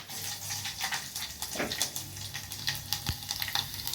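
Dried red chilies, curry leaves and garlic tempering in hot oil in a pan for dal give a steady close sizzle and crackle, with a few sharp pops over a continuous frying hiss.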